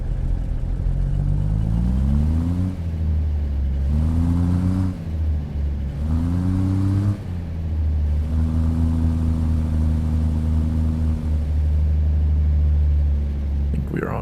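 A truck engine in American Truck Simulator hauling double Wilson grain trailers, steady loud drone rising in pitch through several gear shifts, then holding a constant cruise, with someone talking over it.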